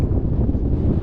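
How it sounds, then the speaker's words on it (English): Gusty wind blowing across the Bonneville salt flats, a steady roaring rush battering the microphone close up, sustained with no break and no voices. "Yeah, these gusts are sustaining. They keep coming."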